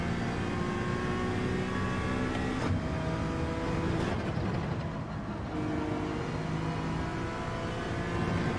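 Honda NSX Group 4 mid-engine race car in Gran Turismo 7, its engine droning steadily at high revs, with shifting tones, no speech, and a brief dip partway through.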